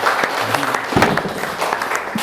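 A seated audience at a televised event applauds in a brief, dense burst of clapping that stays loud and even throughout.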